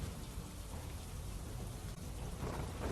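Steady rain pours down over a town and its surrounding villages in Gujarat's Gir Somnath district, a loud, dense wash of drops on surfaces with a faint low rumble, no voices.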